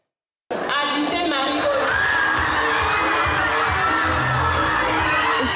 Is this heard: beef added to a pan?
no